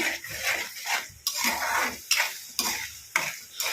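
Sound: stirring and frying ginger garlic paste for chicken pickle

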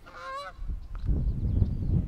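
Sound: geese honking while flying

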